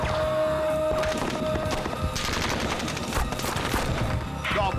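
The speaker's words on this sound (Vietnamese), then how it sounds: "Chúng tôi bị bao vây, đạn bắn ra từ cả hai phía." Gunfire sound effects from an audio drama about a Navy SEAL operation in the invasion of Panama: dense, continuous rattling volleys and booms, loud and busy, with voices mixed in.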